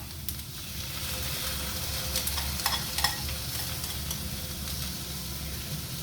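Eggs stir-fried in a pan with cabbage, capsicum and leeks produce a constant, even sizzle close by, with a few light stirring clicks partway through.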